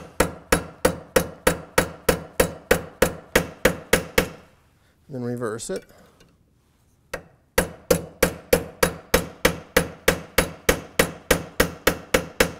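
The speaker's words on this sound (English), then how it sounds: "So we hammer on either side." Hammer blows shaping a metal fluted cuff bracelet over a stake with a rounded crest, fast even ringing taps in a long run, a brief pause with a short spoken line, then the steady hammering resumes close and loud.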